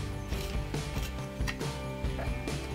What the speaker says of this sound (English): I'm actually going to sharpen this up so I get some nice sharp defined lines in there